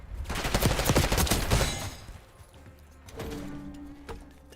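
Rapid automatic SMG fire in Black Ops 6, a loud, dense rattling burst lasting about two seconds, followed by a quieter pause and then a shorter burst of shots with in-game effects.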